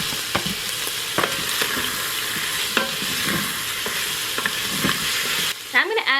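Onion, garlic and tomato sautéing in an Instant Pot, a steady close sizzle punctuated by regular scraping stirs of a spoon against the pot.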